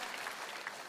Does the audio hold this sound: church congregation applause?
yes